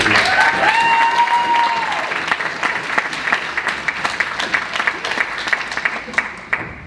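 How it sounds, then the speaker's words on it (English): An audience at the BrightonSEO 2021 conference claps for a speaker, a dense burst of applause thinning into scattered individual claps, with a voice briefly heard over the start. "So please give Alice a big round of applause."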